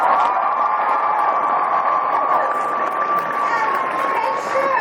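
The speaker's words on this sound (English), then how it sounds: "Give these guys a huge round of applause." An anime convention panel audience in a large hall applauding and cheering, a dense continuous roar of clapping and shouts that stays loud throughout.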